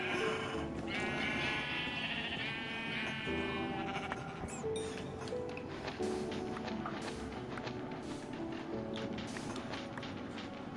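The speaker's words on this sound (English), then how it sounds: "Okay, so we got 2 sheep." Sheep in a video game bleat repeatedly over a busy, continuous game soundscape, the calls wavering and overlapping, with clopping and other background effects throughout.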